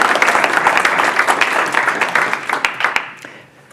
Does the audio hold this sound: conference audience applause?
yes